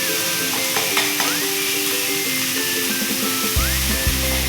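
Cumin seeds fry in hot oil for paneer bhurji, making a steady, close hissing sizzle under a background melody.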